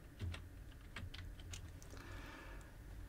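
A few quick keystrokes on a computer keyboard, soft and close, tap out a short word in a quiet room with small gaps between the clicks.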